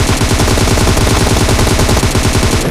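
Rapid automatic gunfire in a mobile battle-royale shooter game, a dense, loud, continuous burst of evenly spaced shots filling the whole stretch without pause and with no talk over it.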